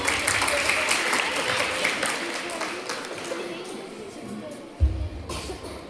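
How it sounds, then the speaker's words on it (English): An audience at a school podcast competition claps and cheers steadily, the applause fading gradually, followed by a brief thump near the end. "Let's welcome her with a huge round of applause."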